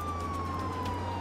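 A police car siren in a border police video game wails as a loud, continuous tone that slowly falls in pitch over a low engine rumble, with no speech.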